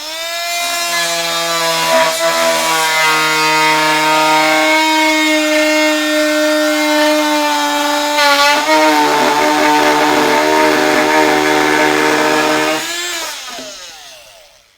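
A corded oscillating multi-tool cuts into wood with a loud, steady, buzzing motor whine held for about thirteen seconds, then winds down as it is switched off.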